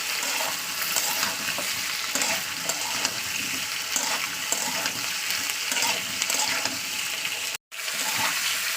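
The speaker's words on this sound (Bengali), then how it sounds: "চার থেকે পাঁচ মিনিট আমি ভাজা করে নেবো" Potato pieces fry in hot oil with a dense, continuous sizzle close to the pan, broken by a brief moment of silence near the end.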